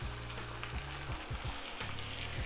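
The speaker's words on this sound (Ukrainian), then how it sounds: "Додаємо до нашої зажарки розсол з огірків." Pickled cucumber brine poured into a frying mix of tomato paste for solyanka, producing a loud, steady, close crackling sizzle throughout with no talk.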